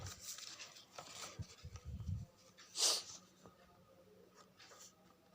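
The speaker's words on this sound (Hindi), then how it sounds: "मान लीजिए लिख देती हूँ" Writing on a board, heard as soft scratchy strokes in short bursts with small pauses, close and fairly quiet, with a brief louder scrape partway through.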